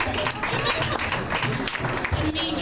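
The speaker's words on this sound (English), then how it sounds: "Yes, you can clap." An audience at a student union election debate claps in a dense, steady burst of applause, with a voice speaking over it.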